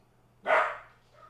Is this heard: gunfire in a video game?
no